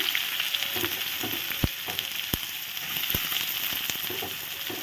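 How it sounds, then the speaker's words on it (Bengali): Chopped onion frying in oil with black cumin and green chilli, the start of a potato filling for Mughlai paratha: a close, steady sizzle with occasional sharp clicks and scrapes of a spatula stirring the pan. "পেঁয়াজ কুচিটা ভালো করে ভেজে নেব।"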